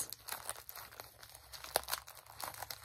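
Plastic packaging from an online shopping haul being torn and crinkled open by hand, with irregular crackling bursts and one sharp rip, close and fairly quiet with no talking.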